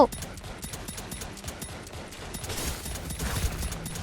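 Rapid gunfire in the mobile shooter Girls' Frontline: Fire Control, dense bursts of shots rattling continuously at moderate volume under a busy game soundscape.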